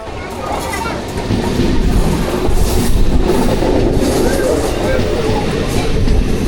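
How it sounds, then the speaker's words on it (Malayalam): A Shoranur–Nilambur MEMU electric multiple-unit train pulling into Angadippuram station, a loud steady rumble of wheels and motors building up close by, with faint higher squeals riding over the roar. "ഇപ്പോൾ നമ്മുടെ ഷൊർണൂർ നിലമ്പൂർ മെമു വരാറായിട്ടുണ്ട്."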